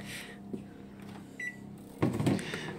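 A microwave oven runs with a steady low hum while melting dark chocolate for a mousse, with a few faint clicks and a louder thump of handling near the end.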